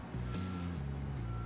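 A concrete truck in Construction Simulator rumbles at a low idle with engine pitch shifting slightly, a steady high electronic tone sounding over it throughout, heard close with no talking.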